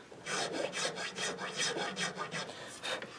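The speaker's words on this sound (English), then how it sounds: "I put some file gouges right in that fretboard right there, and so I'm just going to take them away with the less coarse side" Rhythmic rasping strokes of a finer-cut file smoothing gouges out of a wooden guitar fretboard, roughly a dozen back-and-forth passes in an even, close, moderately loud cadence with no talking.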